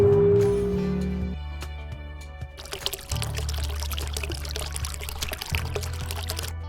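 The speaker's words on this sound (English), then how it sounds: "Pour the vinegar into the bottle." Vinegar poured into a bottle for a home baking soda and balloon experiment: a steady gurgling stream of liquid running for several seconds after a brief clunk of handling, close and fairly loud.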